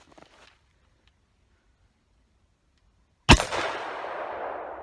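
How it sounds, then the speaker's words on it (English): Single sharp report from an SWR Specwar 5.56 suppressed rifle, a sudden loud crack followed by a fading broad hiss of echo, after near silence. "we'll take a couple shots with and without the brake"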